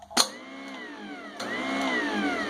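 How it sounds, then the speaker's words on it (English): A garbage disposal used as an apple grinder for cider, switched on by a foot pedal, starts with a sharp click and spins up into a steady whining hum that rises again after a second start, nearby and alone. "it allows me to operate the grinder just with my foot"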